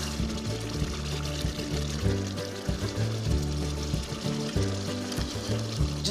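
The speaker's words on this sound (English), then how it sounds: "I'm now ready to pour my sugar syrup into the roux" Hot sugar syrup pours steadily into a hot roux in a pan with a continuous liquid rush and faint sizzle, running unbroken for several seconds with a low hum underneath.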